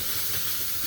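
A steam jet blasts onto a moonshine distilling apparatus during cleaning, giving one steady, loud, close hiss with no voices over it.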